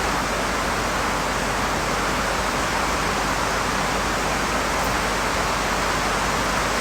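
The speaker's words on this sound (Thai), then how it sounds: "มันแจ้งเตือนเพราะเสียงฝน" Steady, heavy rain hisses without a break, a dense, even wash of sound.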